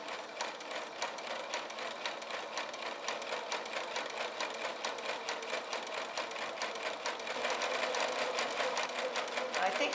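Sewing machine stitching a pettiskirt, a fast, steady rapid needle rattle running continuously and close, growing slightly louder near the end.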